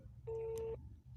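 A single short electronic tone from an IP phone placing an audio call, a clean steady beep lasting about half a second over a low background hum, with no voices.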